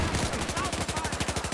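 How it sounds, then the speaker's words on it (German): Rapid gunfire from behind in a video game, a fast, steady machine-gun rattle close by that runs without a break. "Achtung, hinten Beschuss, von hinten."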